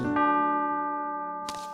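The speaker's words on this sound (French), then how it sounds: "ça indique minuit, la cloche retentit" Clock bell in a cartoon nursery rhyme striking midnight, one clear ringing chime that decays slowly, followed by a brief second strike at the end.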